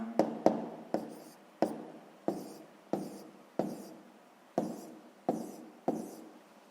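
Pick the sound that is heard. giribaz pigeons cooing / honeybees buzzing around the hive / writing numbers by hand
writing numbers by hand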